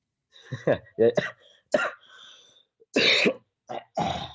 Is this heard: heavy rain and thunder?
no